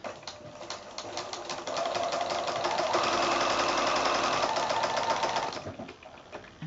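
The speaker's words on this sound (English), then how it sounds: "So I'm just going to sew straight through from the point to the other point." A sewing machine stitches binding on a quilted placemat, sewing straight from point to point with a rapid, rhythmic needle chatter that speeds up, holds steady for a few seconds, then slows and stops, close and alone.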